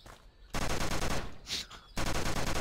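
Automatic gunfire in Die Pig Die, two long bursts of rapid, evenly spaced shots, loud and close, split by a short pause with a brief bright noise.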